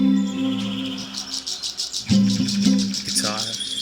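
Chirping birds and insect-like trills open an exotica song recording, bright rhythmic calls layered over sustained low instrumental tones, steady and fairly loud with no voice.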